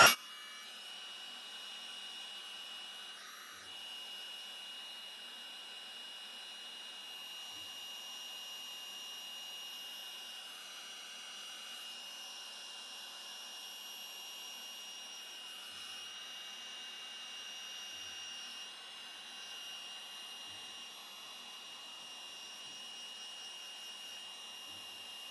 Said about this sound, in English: So these are just going to be heated with the heat tool until the powder melts again.